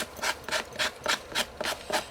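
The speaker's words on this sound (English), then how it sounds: "I think I just want to use a fine sanding block" Rhythmic back-and-forth rasping of a fine sanding block on an ink pad storage unit, eight even strokes in a steady rhythm, close and moderately loud with no talking.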